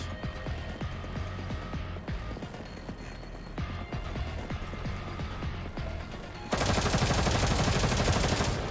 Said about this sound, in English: A ferocious wave of gunfire suddenly sweeps in from afar.